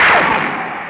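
A single loud gunshot sound effect cracks out for a Microman toy commercial, a sharp booming burst that trails into a fading echo.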